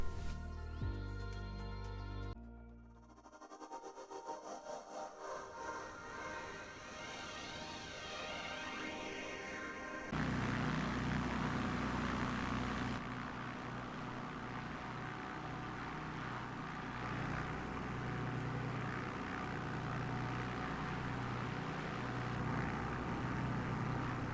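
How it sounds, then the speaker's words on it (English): A single-engine propeller plane in Microsoft Flight Simulator 2020 runs on the runway. After a brief tonal intro and a rising whine, a steady loud engine drone with a buzzing, pulsing hum continues throughout, with no talk. "Here we are, engines running and ready to go."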